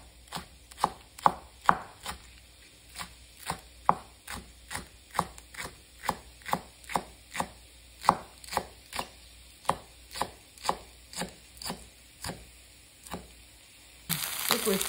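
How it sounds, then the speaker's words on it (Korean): A knife chops green onions steadily on a cutting board, about two even strikes per second, with a faint sizzle behind it. "양념장은 파 썰어서 준비할게요"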